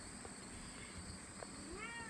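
A pet cat gives a short, faint meow near the end over a quiet, hissy room background.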